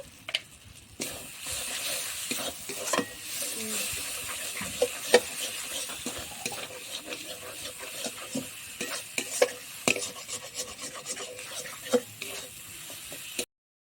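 Masala spices being sautéed and stirred in a pan for an egg curry, with steady soft sizzling broken by frequent scraping taps of a spoon against the pan, close and moderately loud throughout.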